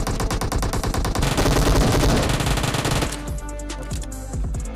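PUBG Mobile gunfire: rapid automatic bursts rattle loudly at close range, then thin into slower, spaced shots toward the end.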